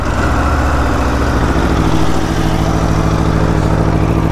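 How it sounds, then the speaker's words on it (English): A 2022 Aprilia RSV4 sport motorcycle on its first start, idling steadily up close with a loud, continuous rumbling engine note and no talk. "This is the 2022 Aprilia RSV4 and this is my first start."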